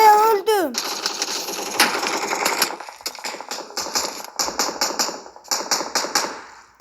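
Gunfire in the mobile battle-royale game PUBG Mobile, with rapid bursts of shots and sharp cracks coming in clustered volleys, loud and close, mixed with game sounds and a voice talking at times.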